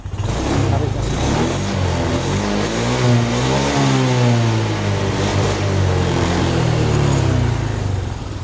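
Honda Beat Deluxe motorcycle, recently restored after stalling in floodwater, revving loudly and steadily close by, engine pitch rising and falling through repeated throttle blips over a sustained drone.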